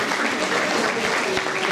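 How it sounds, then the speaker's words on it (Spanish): Church congregation applauding, a short, dense burst of many hands clapping at close range that stays steady from start to finish. "entonces le podemos dar un aplauso a los hermanos"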